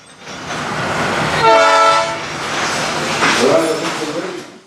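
A heritage train at the Old Threshers grounds in Mount Pleasant, Iowa, sounds a loud, close horn for about a second amid rumbling rail noise, then another rougher swell of train sound follows.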